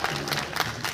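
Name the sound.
audience applause for a poet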